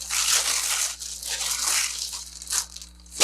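Plastic packaging around a Lepower LED desk lamp crinkles and tears in close, uneven bursts, with brief pauses between handfuls of rustling.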